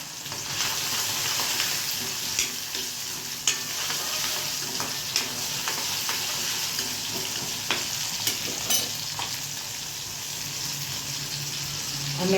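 Asafoetida (hing) drops into hot oil in a pan, and a loud, even sizzle runs close and continuous. Scattered clinks of a utensil sound over it, along with a faint watery trickle.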